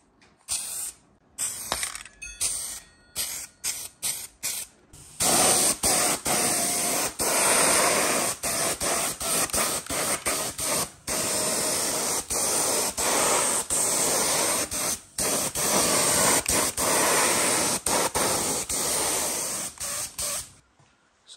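Spray gun laying a 2K clear coat over anti-roll bars for a TD5 Defender build, a steady pressurised hiss in long continuous passes after a few short opening bursts, close and loud with no talking.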